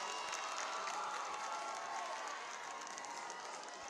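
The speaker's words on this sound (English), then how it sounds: "You can undoubtedly hear the excitement in the crowd" Crowd at a high school football game, Archbishop Mitty versus Palma, cheering and applauding in a steady broad roar that holds for several seconds at moderate distance, with no clear talk over it.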